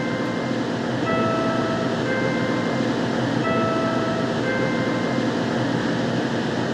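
Interior of a moving metro train, a loud steady rumble and rolling wheel noise with faint tonal whines rising and falling, continuous throughout with no talking.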